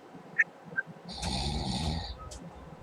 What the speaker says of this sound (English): Oh, someone's snoring.